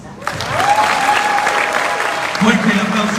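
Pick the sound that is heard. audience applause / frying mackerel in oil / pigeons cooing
audience applause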